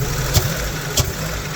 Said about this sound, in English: And then it just started idling perfect.